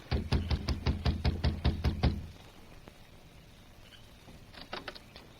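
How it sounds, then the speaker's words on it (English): Knuckles rap a wooden front door on a ranch house porch in about eight quick, close, evenly spaced knocks, then quiet, with a few fainter taps near the end. "crossed the porch, and knocked on the door."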